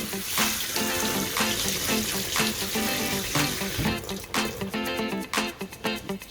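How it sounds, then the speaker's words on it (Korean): Tap water streams over thawed oysters in a colander, a loud steady rush with splashing that turns choppier and more broken near the end, with some background voice. "채반 준비하고 굴을 부어서 대충 씻어주면 오케이요"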